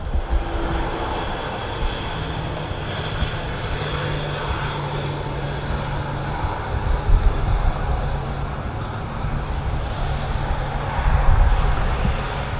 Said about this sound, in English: Ryanair 737-800.